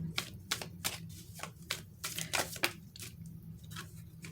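Repeated riffling bursts of tarot cards being shuffled, close up, in quick irregular rounds with brief pauses between.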